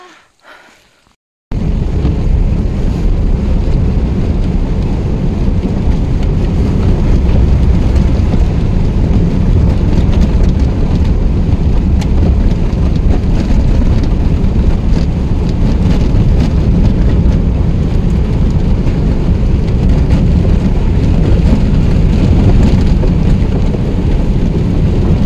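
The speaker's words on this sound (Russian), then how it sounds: "Дождик то начнется, то закончится, но мы все мокрые вообще просто." Steady rain falls outdoors in the taiga, a dense, continuous hiss that starts abruptly after a brief quiet moment and holds loud and even throughout with no voices.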